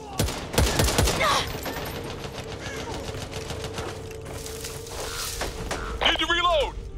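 Gunfire rattles in the co-op zombie shooter Back 4 Blood, with sharp bursts up front and scattered shots through the rest, under players' shouted voices.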